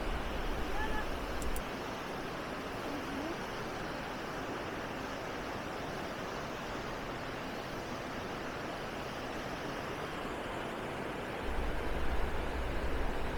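A large two-tier waterfall in a rocky gorge lined with autumn foliage gives off a steady, broad rushing roar that stays constant and fairly loud from start to finish.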